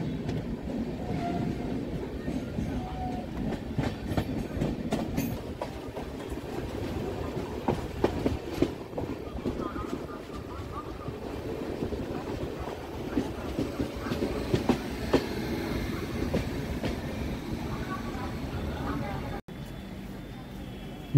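The 12023 Howrah-Patna Janshatabdi Express runs on rails near Jamtara station in Jharkhand, giving a continuous rumble with rattling clickety-clack wheel beats throughout, heard from on board with a voice speaking over it.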